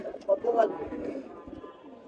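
A Bezi pigeon gives a few brief low coos up close, soft and throaty, with faint handling noise around it.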